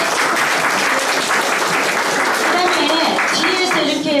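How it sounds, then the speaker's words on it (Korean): Sustained, dense applause from an audience at the opening ceremony of a photography exhibition at a gallery, loud and steady throughout with a voice briefly audible over it. "모두 박수 보내주십시오."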